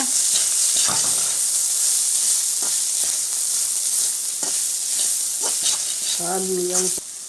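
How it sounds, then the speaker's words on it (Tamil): Pasta sauce seasoned with black pepper and chilli powder sizzles steadily in a pan, with occasional scraping from stirring and a brief tonal squeak near the end. "இப்போ நம்ம வந்து மேலேயும் கீழேயுமா நல்லா கிளறி விட்டுக்கோங்க."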